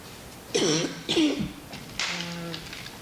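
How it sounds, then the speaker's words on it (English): Two short, rough coughs come close together, followed by a harsher throat-clearing cough, near and moderately loud. "because I'm coughing too much"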